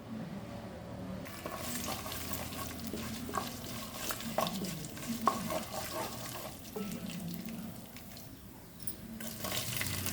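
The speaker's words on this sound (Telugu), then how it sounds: "పోపు చేసుకోవాలి. కొంచెం పెసరపప్పు వేసుకుంటున్నాను. పెసరపప్పు, ఆవాలు," Moong dal and mustard seeds go into hot oil for tempering, giving a soft, steady sizzle with scattered crackles and a few spoon stirs in a home kitchen, fairly quiet and without talk.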